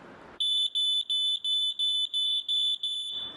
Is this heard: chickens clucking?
no